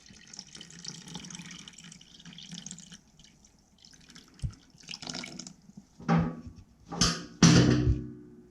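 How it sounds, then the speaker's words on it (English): Coolant drains from a CR500AF motorcycle engine, with trickling and dripping liquid building into several louder splashing gushes toward the end, close and uneven. "coolant is now drained from the system."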